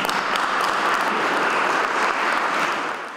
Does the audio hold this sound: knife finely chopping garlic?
no